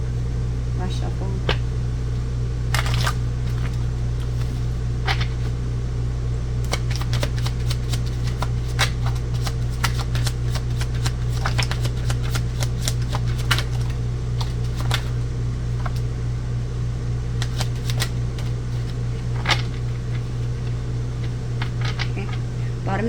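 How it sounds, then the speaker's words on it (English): Tarot cards being shuffled by hand, with repeated crisp riffling clicks and flutters close to the microphone over a steady low electrical hum, with speech in places. "Last shuffle."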